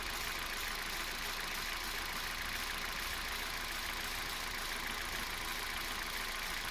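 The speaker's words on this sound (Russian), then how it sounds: "Вот мы запустили двигатель." A Kia Rio III engine idles just after a cold start, a steady, even hum with broadband whir and no talk, faint and constant throughout.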